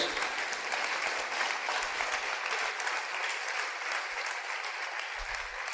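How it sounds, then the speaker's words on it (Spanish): A church congregation claps loudly in praise during a sermon, a sustained, dense wall of applause that holds steady throughout with no talking over it. "Dale ese aplauso fuerte a Dios."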